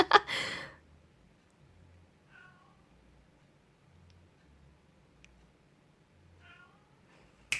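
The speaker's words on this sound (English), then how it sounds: "And that's my cat in the background meowing for some reason." A cat meows faintly a few times in the background, with soft ticking and long quiet stretches between the calls.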